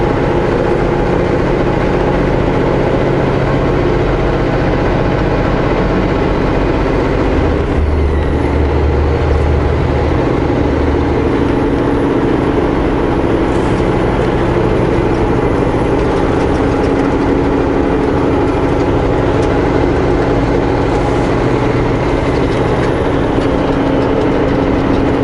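A turbocharged truck engine labors up a mountain highway, a loud, steady low rumble with a constant drone and some road noise, continuing without a break throughout with no talking.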